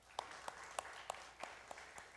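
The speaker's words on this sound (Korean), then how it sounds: "감사하다고 박수하겠습니다." Sparse, scattered handclaps from a church congregation, a handful of separate claps spaced out at a steady, hesitant pace over quiet room tone, fairly faint and distant.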